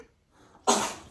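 A single sharp baby sneeze bursts out after a brief quiet pause, loud and close, trailing off quickly.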